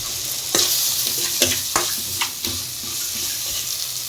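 A spoon stirs a dry masala mixture with amchur in a hot pan, making a soft continuous sizzle with several sharp scrapes and clinks up close, no voices.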